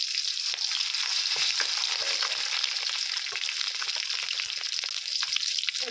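Whole garam masala, bay leaf and slit green chillies fry in hot oil with a steady, dense sizzle and crackle that runs unbroken and fairly loud throughout, with faint stirring.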